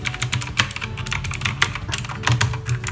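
Typing on an Oker K79 mechanical keyboard with blue switches gives rapid, uneven, close clicky keystrokes that continue throughout, with no talk.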